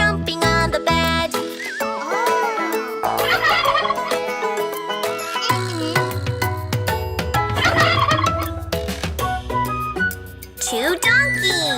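Cartoon turkeys gobble through a cheerful children's song about little turkeys jumping on the bed, the repeated gobbles mixed with singing voices and bright backing music.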